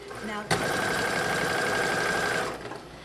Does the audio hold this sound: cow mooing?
no